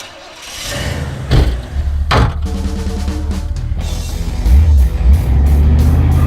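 A beater car built for burnouts revs hard while its new tires spin in place, the engine bursting up and roaring with loud rising and falling surges, close and dominant.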